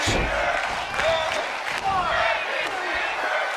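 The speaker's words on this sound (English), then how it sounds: "The sound of this crowd is deafening, and he's asking for more." Loud, dense arena crowd roar from the WWE 2K22 wrestling video game, sustained throughout with swelling cheers and scattered shouts during a brutal match, with commentary talk running over it.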